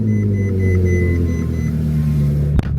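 A car fitted with a Valvetronic Ferrari exhaust rumbles at a steady, close idle, with a repeating electronic chime beeping over it and a sharp knock near the end.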